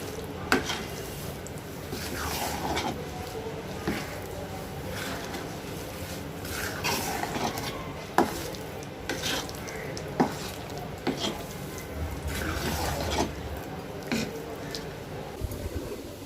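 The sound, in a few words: stirring and mixing rice flour with ghee for chalimidi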